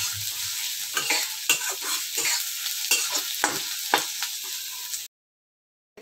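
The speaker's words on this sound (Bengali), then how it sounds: "আদা রসুন দুটোই আমি একসাথে দিয়ে দিলাম। দিয়ে আমি হালকা ভেজে নেব" Chopped ginger and garlic fry together in a pan, a dense close sizzle punctuated by frequent spatula scrapes and stirs, ending in sudden silence.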